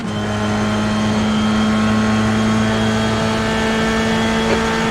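An F3 race car engine at Monza in the iRacing sim holds a loud, steady high drone throughout, a sustained tonal whine close up with no talk.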